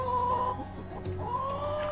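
Chickens cluck softly and repeatedly nearby, with an occasional rising call, in a quiet farmyard setting.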